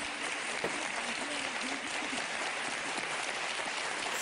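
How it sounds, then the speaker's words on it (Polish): Steady clapping from a group fills the clip at an even level, with a faint voice briefly audible underneath. "Brawa dla pana Pawła."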